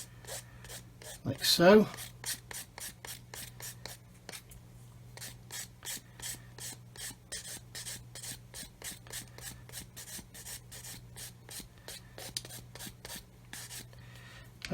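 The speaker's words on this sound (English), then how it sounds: "use the same area of the stick on these seats, get rid of the sprue nibs around there" A sanding stick scrubs sprue nibs and mould seams off the plastic seats of a 1/35 Hobby Boss Land Rover SWB kit, giving rapid, steady rasping strokes close up after one louder scrape, with a brief spoken remark.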